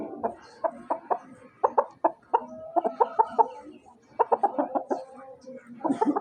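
Chickens cluck close by in quick bursts of sharp, repeated clucks, broken by short pauses, with a faint background of farmyard sounds.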